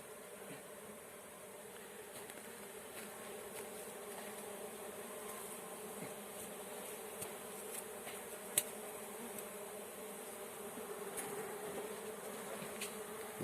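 Honeybees hum steadily as they come back onto the hive frames, a continuous close buzzing drone with occasional individual bees passing nearer; no speech.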